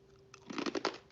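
A few quick crisp crunches of someone biting and chewing thick-cut potato chips close to the mic, a brief cluster of bright snaps with no talking.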